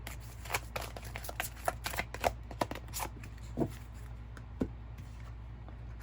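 Goddess Guidance oracle cards being shuffled by hand, a series of crisp riffling flicks and soft slaps in an irregular rhythm, close and fairly quiet against a low background hum.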